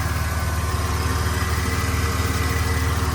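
A 1995 Ford F-150 with the 4.9-liter inline six runs steadily after a power steering pump swap, a continuous close idle rumble with an even low pulse and no talk.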